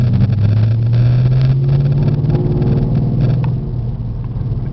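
A red Ford Mustang GT with a five-speed manual gearbox rolls slowly over speed bumps, its loud, close engine holding a steady low rumble that rises slightly in pitch and then eases off near the end.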